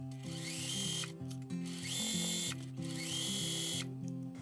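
A sewing machine stitches along the folded hem of a tunic, with three sustained runs of whirring motor hum separated by short pauses, close and fairly loud.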